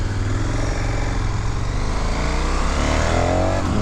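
A 2019 KTM 1290 Super Adventure S motorcycle engine runs with a deep, steady throbbing rumble, loud and close throughout.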